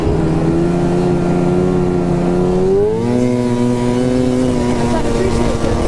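A snowmobile engine drones steadily while riding on flat New Hampshire trails, its pitch climbing midway as the sled speeds up, close and loud throughout with a voice talking faintly over the engine.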